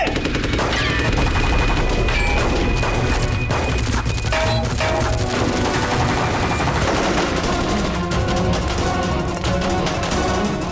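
Rapid bursts of gunfire crackle continuously, loud and dense, with sharp impacts and crashes layered throughout, in a police shootout in the TV series CID.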